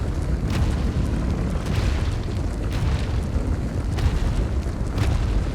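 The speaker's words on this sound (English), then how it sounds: "Cannonball." Cannon fire in ARK: Survival Evolved rumbles as heavy, low booms, with several loud thumps rolling over a continuous deep roar and no talking.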